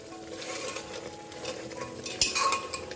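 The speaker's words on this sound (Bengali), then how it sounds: "এই দেখো মাটন কষানো চলছে, পাঁঠার মাংস" Goat mutton being stir-fried in a pan, with a steady low sizzle and repeated spoon-scraping stirs, a sharper clatter near the end, no voices.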